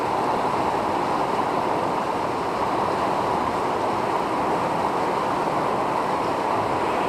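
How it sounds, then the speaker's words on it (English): A high, fast-flowing river rushes in a constant, dense roar of water, steady and close with no pauses or voices. "the river's up so high and moving so fast"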